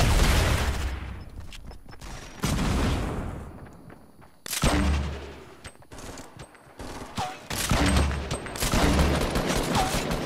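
Fortnite combat with a grenade blast among bursts of rapid gunfire, loud booming explosions and rattling shots coming in waves with short quieter gaps.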